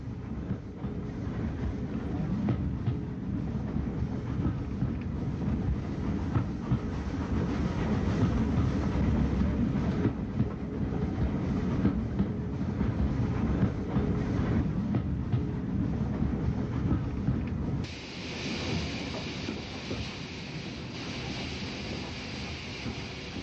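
A vintage Southern steam train runs on the Lewes to Tunbridge Wells line near Culver Junction, giving a loud, steady rumble and clatter that stays close throughout before its tone shifts near the end.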